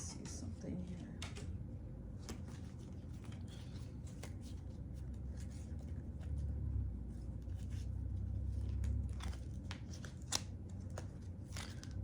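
Tarot cards shuffled and drawn by hand, a continuous soft riffling and flicking of cards close by, with a low rumble underneath.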